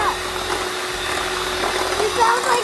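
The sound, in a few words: electric hand mixer whipping body butter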